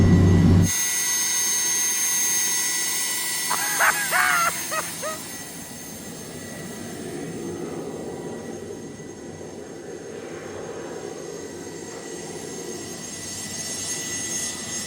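A jet turbine engine fitted in a Camaro runs at idle with its throttle cable not yet connected, giving a loud, continuous roar with a steady high whine that holds for the whole stretch, with a brief voice near the start.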